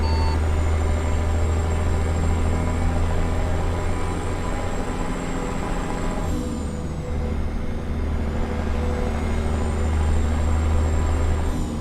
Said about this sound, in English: Oh, we can hear all the other trucks in there